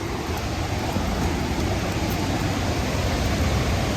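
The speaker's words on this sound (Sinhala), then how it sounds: "ඔයාලා දියැලේ සද්ද ඇහෙනවද" Waterfall at Sera Ella in Riverston, Sri Lanka, with water spilling over rocks: a constant, close, dense rushing roar with no pauses.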